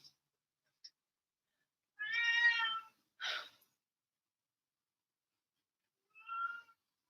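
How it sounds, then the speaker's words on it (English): A house cat meows several times in a quiet room during a home Pilates mat session, with two drawn-out meows close together and a shorter one a few seconds later, clear and near. "my cat is going to tell you you're doing a great job already"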